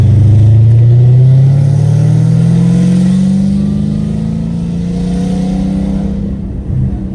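Dodge Hellcat Redeye accelerating under load, engine loud and close with a deep rising drone that climbs steadily over several seconds, then eases off near the end.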